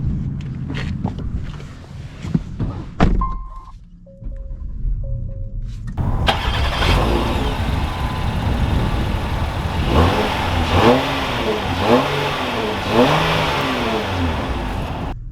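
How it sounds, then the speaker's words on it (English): A 2022 Acura MDX Technology luxury SUV engine cranks and catches after a few quiet clicks, then settles into a steady, close running drone as the vehicle drives off, with no talking. "Let's take the MDX out and see how it drives."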